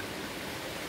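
River water flows in a steady, soft rushing hiss, continuous and unbroken at a low, even level with no voices.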